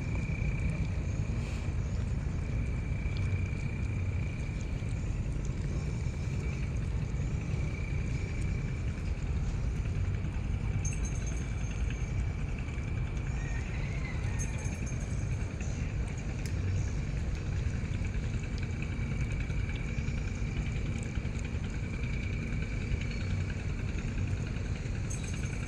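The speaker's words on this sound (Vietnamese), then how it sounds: "Có một chiếc ghe chở đủ bao đủ màu, dừa khô, người ta vô dừa khô vô bao người ta chở đi bán." A boat engine drones steadily on a river in Vietnam as a boat loaded with sacks of dried coconuts passes, a continuous low rumble with a faint tonal whine, no talking.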